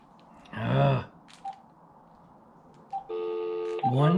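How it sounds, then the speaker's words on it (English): Telephone keypad dialing a 1-800 number: a few short touch-tone beeps spaced apart, then a long sustained multi-tone signal, with brief bursts of speech at the start and end. "That's the number I just dialed."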